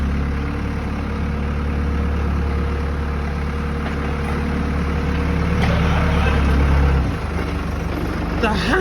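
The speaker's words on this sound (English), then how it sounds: "Forklift POV" Forklift engine idling and running through a handling test, a steady low rumble close by that dips near the end.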